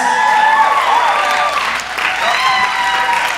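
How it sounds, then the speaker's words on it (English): Steady audience clapping for dance competition winners in a big auditorium, dense and continuous with a brief dip midway and a few voices mixed in. "Give them a nice big round of applause"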